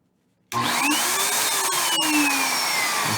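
A vacuum-and-heat tool used for puppet building switches on abruptly after silence, its vacuum motor roaring loud and steady at close range with a slight wavering whine.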